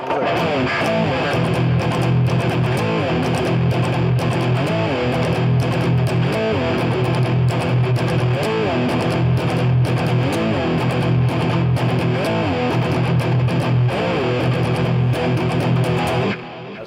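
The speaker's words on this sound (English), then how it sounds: "how you made distortion lead guitar tone" A loud, heavily distorted electric guitar plays continuously with dense, saturated chords and lead lines, stopping abruptly at the end.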